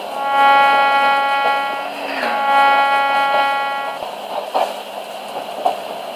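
A loud, sustained multi-tone train horn blares twice in a train simulator game, then fades into rolling train rumble with clicks.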